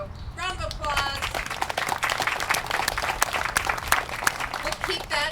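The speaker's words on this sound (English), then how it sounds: "So, round of applause." A crowd claps at a groundbreaking ceremony, steady applause that rises and holds for several seconds, with a voice speaking briefly at the start and again near the end.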